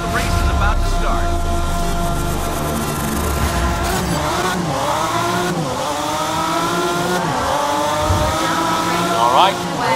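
Several race cars in a racing video game sit revving loudly at the start at Suzuka, engine drones rising and falling steadily with a couple of sharp pitch sweeps, continuous and close throughout.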